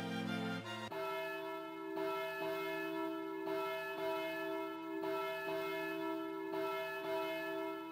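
Wedding bells tolling in the Harvest Moon DS video game, ringing out alone in a steady series of clear, sustained strikes that overlap and sing on, each new stroke arriving about every second and a half.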